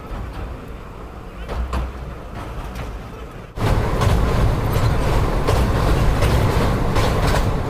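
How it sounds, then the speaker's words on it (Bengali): The 22202 Puri–Sealdah Duronto Express running, a steady close rumble heard from inside the carriage that grows abruptly louder and fuller partway through and stays constant. "আমি 22202 পুরী শিয়ালদা দুরন্ত এক্সপ্রেসে জার্নি করছিলাম"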